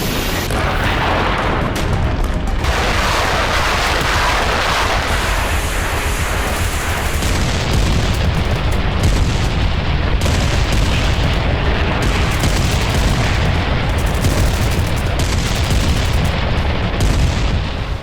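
Artillery strikes and explosions in Nagorno-Karabakh, a dense, loud, continuous rumble of booms and blasts that runs throughout without a break and with no voices.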